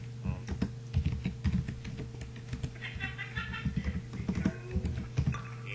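Rapid clicking keystrokes on a computer keyboard enter a command during an Ace of Spades game, irregular bursts of close taps throughout.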